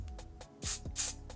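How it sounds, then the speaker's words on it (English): Two quick sprays of a Moroccan Perfect Defense hair product from a small spray bottle, each a short sharp hiss, close to the ear, with faint handling noise between and no speech. "So it just comes in a little spray."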